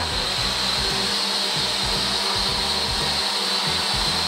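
A racing drone flying and spinning, a loud steady high-pitched motor whine with pulsing, varying low rotor tones, close and continuous.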